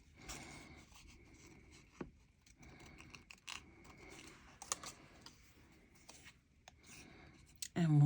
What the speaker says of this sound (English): I'm just going to cut these out, and I'm going to do a little bit of fussy cutting here